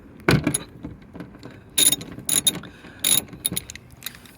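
A ratchet backs out a single 10 mm bolt on a 2022 Kia Sportage rear door during disassembly, giving several short bursts of rapid close-up clicking separated by brief pauses.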